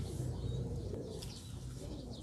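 A pet pigeon kept by a pigeon fancier coos softly and low, close by, against a steady background hum with no talking.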